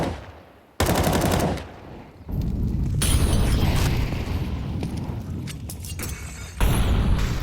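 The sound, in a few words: grenade explosions in Counter-Strike, a video game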